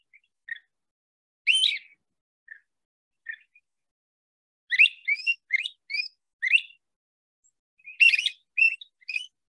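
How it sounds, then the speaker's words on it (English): A great crested flycatcher gives a few scattered whistled notes, then bursts into rapid runs of chattering calls, repeated in quick clusters with brief pauses between. "So they do that kind of a chattering noise"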